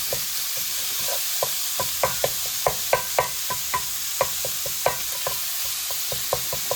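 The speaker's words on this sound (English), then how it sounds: "Mix this in with our onions real nice." Ground pork is stirred with onions in a hot pan for a saucy pork and cabbage stir fry: a rhythmic run of close spatula scrapes and taps over a soft sizzle, with no talking.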